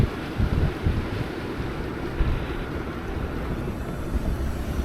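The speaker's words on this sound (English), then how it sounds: "it's snowing sideways because it's so windy." Strong wind roars and buffets steadily against a tent during a snowstorm, a dense, close, continuous rumble with gusty surges, no voices.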